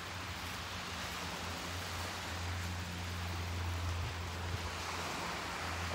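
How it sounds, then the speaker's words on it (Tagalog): Sea waves at the shore make a steady, broad rushing wash with a low rumble underneath, continuous and fairly faint, with no voices. "ang ganda ng dagat"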